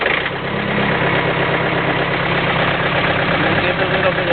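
A John Deere 110 TLB backhoe loader's engine idles with a steady, continuous rumble, loud and close, running without a break throughout.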